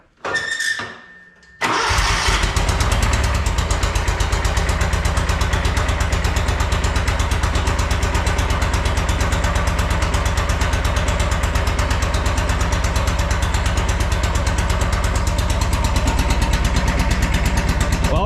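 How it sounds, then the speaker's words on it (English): A Wright Stander X mower with a blown engine starts after a brief crank, then runs loud and close on one cylinder in a steady, rough, rapid chugging that continues alone without pause. "She runs. Running on one cylinder right now."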